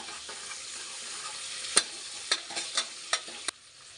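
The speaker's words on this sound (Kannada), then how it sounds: "ಅದು ಚೆನ್ನಾಗಿ ಫ್ರೈ ಆಗಬೇಕು." Homemade ginger garlic paste frying in a pan for an avarekalu sambar, with a soft continuous sizzle broken by several sharp spoon scrapes and knocks against the pan in the second half.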